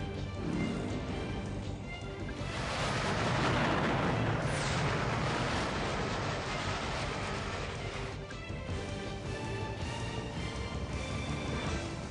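Grenade blasts in Metal Gear Solid 3: Snake Eater, a dense, loud rumbling barrage of explosions that swells in the middle and keeps booming without a pause.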